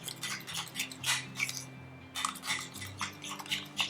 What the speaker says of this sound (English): You blend it well with a spoon or a stirrer.